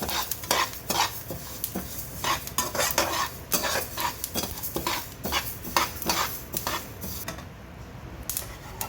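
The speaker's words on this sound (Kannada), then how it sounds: "ನೋಡಿ ಈ ಥರ ಚಟಾಪಟ ಇದೆ ಕೈ ಬಿಡ್ದೇ ಇದಕ್ಕೆ ಇದನ್ನು ಮಾಡಬೇಕು ಹುರಿಬೇಕು" Flax seeds dry roasting in a pan for chutney powder give off dense, irregular crackling and popping, with a spoon scraping and stirring against the metal throughout, close and steady.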